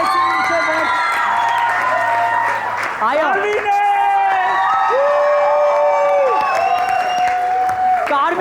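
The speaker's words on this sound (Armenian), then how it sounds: "Եկեք բարձր ծափարենք կարմիրներին հաղթանակի" A crowd cheers and claps for the winning red team at the close of a team sports-show game, loud and sustained, with whoops and an announcer's voice over it.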